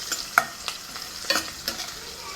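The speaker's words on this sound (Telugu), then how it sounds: "ఇవి బాగా ఫ్రై కానిస్తా." Chicken curry ingredients frying in oil crackle with a soft steady sizzle, and a spoon scrapes the pan in several brisk, evenly spaced strokes, close and fairly quiet.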